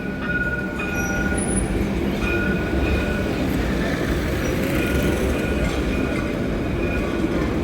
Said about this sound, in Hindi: फिर से वो ट्राम जा रही है।